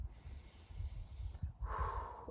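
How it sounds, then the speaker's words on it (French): A deep, slow exhale during a guided relaxation breathing exercise, heard close and alone as a soft breathy rush that swells toward the end. "On expire, on inspire, on expire profondément"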